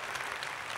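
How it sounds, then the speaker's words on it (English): Applause from an audience for Syed Saddiq, a brief steady wash of many hands clapping, fairly faint and with no voices over it. "Let's give a big round of applause for Saddiq."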